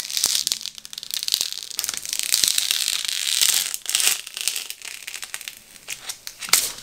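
Eco solvent transfer tape is peeled back by hand, giving close, continuous crinkling and crackling with tearing rasps that rise and fall over several seconds.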